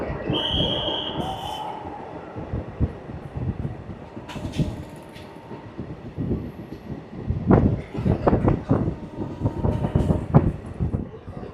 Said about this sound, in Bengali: এনএস টুয়েলভের নিচে দিয়ে চলে যাচ্ছে আমাদের এই ট্রেন